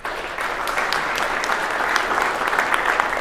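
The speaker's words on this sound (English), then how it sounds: "Can you please give them a round of applause for what they've done?" An audience at a HARDI 2019 speaking event gives a sustained round of applause, dense clapping from a crowd of hands that stays even and fairly loud for a few seconds.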